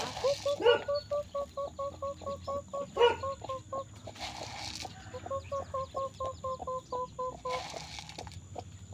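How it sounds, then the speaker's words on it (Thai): Chickens cluck in repeated rhythmic bursts at feeding time, close and fairly clear, with a few louder squawks and short rustling noises between the calls. "ไก่ใหญ่เยอะเกินไป"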